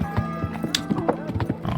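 Horse galloping in the medieval video game Kingdom Come: Deliverance, a rapid, close clip-clop of hooves with a brief whinny, heard under someone talking.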